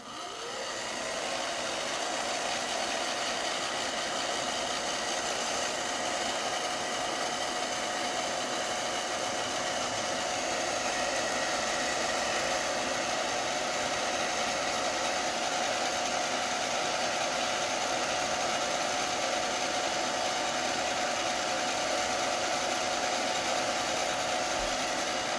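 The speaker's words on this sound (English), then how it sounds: "I'm going to turn my hair dryer on." A hair dryer runs steadily and loud, a constant whooshing blower noise with a faint whine holding for the full duration without pause or talk.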